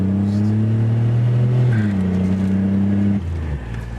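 A turbocharged Buick engine revs up under load, a loud, close steady drone with rising boost, then the note drops and settles lower near the end as the revs fall away.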